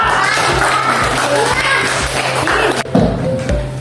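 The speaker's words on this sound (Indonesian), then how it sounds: "Tepuk tangan buat Alisa." A classroom of children claps for a student during an Islamic jurisprudence lesson, steady close applause mixed with thumps and children's voices, tapering off toward the end.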